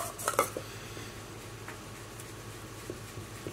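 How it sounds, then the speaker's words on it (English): A utensil stirs a micro bead mixture in a pot, opening with a few bright clinks and scrapes against the pot, then quieter, intermittent scraping over a low background hum. "you're going to have to stir pretty quick to keep it from starting to set up"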